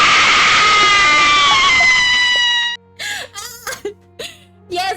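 A loud scream alert sound fires on a live stream, a long harmonic shriek holding for nearly three seconds before cutting off, followed by a few short vocal bursts.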